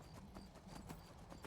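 A horse's hooves clip-clop in a steady, even rhythm in the video game Skyrim, faint and low in level, about a dozen quick beats over a constant background hum.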